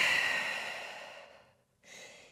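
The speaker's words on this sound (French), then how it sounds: "Et dernière grande respiration ici." A long, deep exhale during a vinyasa yoga class, soft and close, fading out, followed by a brief pause and a second, shorter breath.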